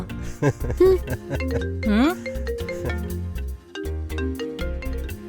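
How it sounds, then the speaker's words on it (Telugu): A mobile phone rings with a melodic, musical ringtone of rising and falling tones that repeats steadily and plays clearly nearby for several seconds. "ఏంటి అన్ని ఫోన్లు వస్తున్నాయి?"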